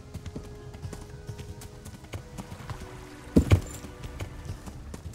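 Horse hooves clip-clopping in the video game Kingdom Come: Deliverance, a steady trotting rhythm of light hoof taps with a couple of heavier thuds near the end.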